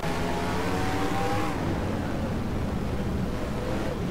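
Race cars in a stock-car racing video game, a loud steady engine roar that sweeps past, then settles into a continuous droning rumble, close up, with no talk.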